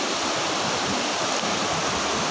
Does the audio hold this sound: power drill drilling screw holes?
no